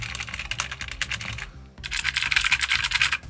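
Rapid clacking keystrokes on a cheap twenty-dollar mechanical keyboard with brown switches, typed close up in quick bursts with a brief pause midway.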